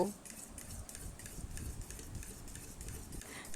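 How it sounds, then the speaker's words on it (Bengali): Dosa batter with salt and baking soda gets stirred in a bowl, a soft, steady, repetitive scraping and sloshing close by at low volume. "আবারও এই সমস্ত কিছু ভালো করে মিশিয়ে নেব"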